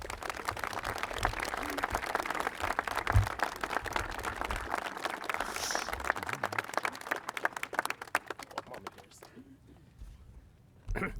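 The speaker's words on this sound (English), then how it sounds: "Another round of applause, please, for Nicole Murray Ramirez." A crowd applauds at an outdoor groundbreaking ceremony for a park and AIDS memorial, with dense, sustained clapping that gradually thins out and dies away near the end.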